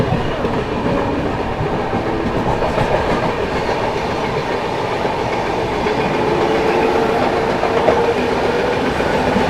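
A passenger train runs on rails while a local train departs on a parallel track, giving a loud, steady rumble with continuous clattering wheel noise throughout and no voices.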